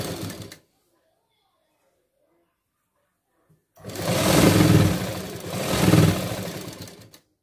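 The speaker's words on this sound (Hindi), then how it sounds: "अब एक साइड का पहले हम स्टिच कर लेंगे इस तरह से" Electric sewing machine stitching a blouse seam with a quarter-inch allowance, two loud sustained runs of motor whir with a brief clatter before a long silence, then a steady burst that swells, dips and swells again before stopping.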